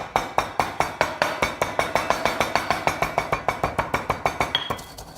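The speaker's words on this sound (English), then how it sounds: "Then we go into the bashing." A pestle bashes ingredients in a mortar, about two dozen sharp, evenly spaced strikes in a quick steady rhythm, each a hard knock with a brief ring, close by and alone.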